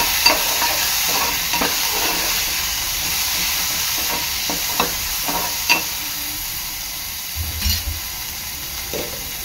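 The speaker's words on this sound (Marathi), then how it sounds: "वाटाणा चांगला मिक्स करून घ्यायचा आहे" Peas being stirred into a potato patty filling in a pan, a steady soft sizzle and hiss with repeated spoon scrapes and taps throughout, close and moderately loud, no talk.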